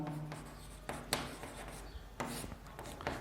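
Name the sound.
writing out a maths solution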